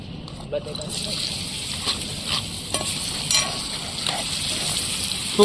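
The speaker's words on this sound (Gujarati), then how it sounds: "તો આપણે ડુંગળી ટમેટા આમાં નાખી દઈ" Onions and tomatoes dropped into a hot frying pan during a camping cookout, with a steady hiss of sizzling and a few stirring scrapes and clinks, while people talk in the background.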